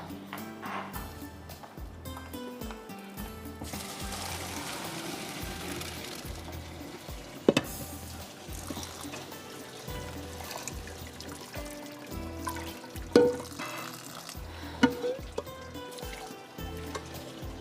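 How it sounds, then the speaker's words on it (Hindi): Cooked rice strained in a kitchen as its starchy water drains away, with a steady trickle and splash of pouring water and occasional sharp knocks of the pot, fairly quiet. "चलें जी, चावल छान लेते हैं"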